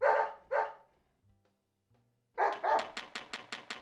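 A dog in the video game Deadly Premonition barks twice, falls silent for about a second and a half, then lets out a fast run of about eight sharp barks, loud and close, with no talk over it.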